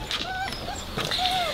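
Young Weimaraner puppies around eight weeks old whimper and give high, thin yips in quick bursts, several small voices overlapping close by in a busy litter.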